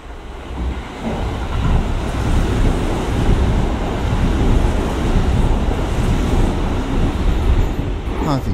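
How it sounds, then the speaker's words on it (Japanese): A Hanshin Namba Line rapid express made of Kintetsu cars runs through platform 3 of a station without stopping, giving a loud, sustained rumbling roar of wheels and wind that rises after the first second and holds steady to the end. "と言ってる間に3番乗り場通過列車が来るようです。"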